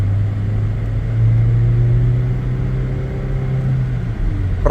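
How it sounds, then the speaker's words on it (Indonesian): A Toyota Innova Reborn petrol engine idling steadily at close range, a low even hum and rumble that stays level throughout with no revving and no voices. "Peraungan mesinnya aja berubah tuh, Pak."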